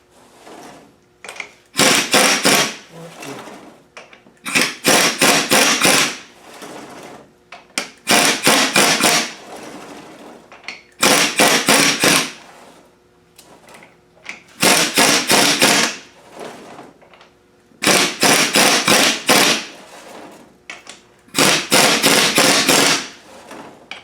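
Air impact gun on its lowest setting running down the crown wheel bolts on a Rover differential during an air locker fitting: seven loud, rapid hammering bursts of about a second each, separated by short pauses, close and with no talking.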